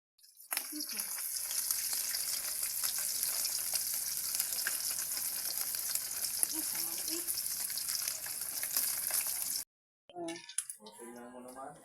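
Fish frying in hot oil at a home kitchen in the rural Philippines, a steady dense sizzle and crackle running close and loud for most of the stretch before cutting out abruptly, with a brief voice after.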